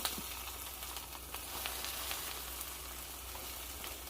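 Spinach, eggs and smoked sardines frying together in a pan for breakfast, giving a steady, close sizzle with soft crackles and no talking.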